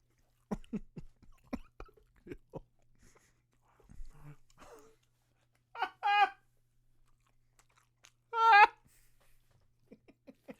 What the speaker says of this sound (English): Everybody loves chewing into a mic.